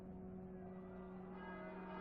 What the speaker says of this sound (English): bells toll above the din of the carnage outside